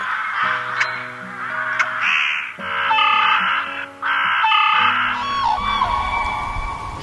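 A rook caws loudly and close in a series of harsh, repeated calls over steady background music, with short pauses between the bursts.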